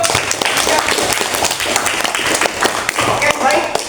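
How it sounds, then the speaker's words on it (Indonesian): A classroom of students applauds after a lesson, a dense, steady patter of many hands clapping at close range for about four seconds, with voices mixed into the clapping. "Oke, tepuk tangan untuk."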